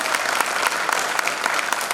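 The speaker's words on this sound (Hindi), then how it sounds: "जोरदार ताली" Loud, dense applause from a theatre audience for the writer and director of a Hindi stage play, steady clapping throughout with no talk.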